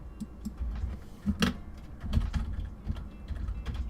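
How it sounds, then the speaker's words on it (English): Typing on a computer keyboard during a Japanese-language lesson, a steady run of soft close key clicks with a few louder taps, heard alone without talk. "let's go back to the English keyboard."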